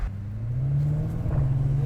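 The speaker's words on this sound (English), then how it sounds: "It's got that little angry like burble to it" Jaguar F-Pace SVR engine idling and revving in its aggressive mode, a deep low burbling rumble that swells slightly, close and steady with no talk.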